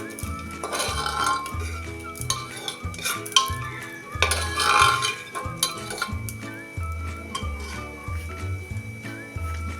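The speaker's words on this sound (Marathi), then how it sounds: "खारीक आता ही थोडीशी परतून घेऊया" Sliced dry dates (kharik) sautéed in a pan, with a soft sizzle under repeated spatula scrapes and metallic clinks against the pan in an uneven rhythm, close and moderately loud.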